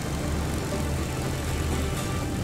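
A P-38 aircraft engine in a flight simulator game drones steadily at low pitch, a close continuous rumble with little change in loudness and no voices.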